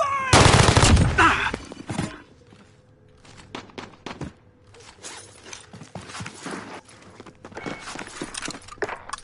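Video game firefight with a loud burst of gunfire at the start, then scattered sharp shots and clicks at mid distance, with a voice briefly talking over the fight.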